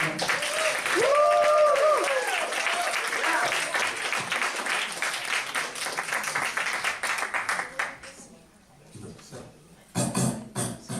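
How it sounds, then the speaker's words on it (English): A big round of applause from an audience greeting a speaker, clapping that swells and rolls on for several seconds with a voice audible early on, then thins into scattered claps and fades before a brief final burst. "could we have a huge round of applause for our Captain, Randy Cramer"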